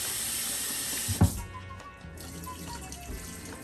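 Tap water runs steadily over raw pork chops being rinsed in a kitchen sink, a close, constant hiss with a brief clunk near the start.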